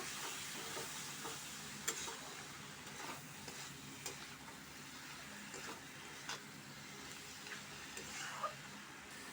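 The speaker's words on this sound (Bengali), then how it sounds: "দিয়ে দিলাম নুন, হলুদ, সর্ষে বাটা, সব কিছু একসাথে ভালো করে কিছুক্ষণ কষিয়ে নেব" Salt, turmeric and mustard paste stir-fried together in a pan, a quiet low sizzle broken by sharp periodic clicks and scrapes of a spatula against the pan.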